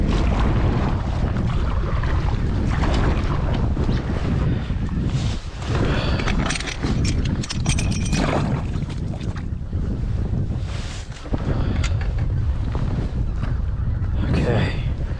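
Wind roars across the microphone on a boat during bass fishing in rain, a steady loud broadband rush with gusting swells and a brief lull near the end.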